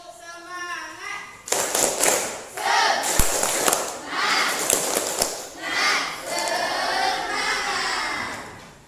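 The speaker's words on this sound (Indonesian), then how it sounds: "Tepuk semangat." A classroom group claps a 'tepuk semangat' rhythm as an ice-breaking cheer, bursts of hand claps and chanting voices pulsing in a lively pattern, with a teacher's voice leading at the start.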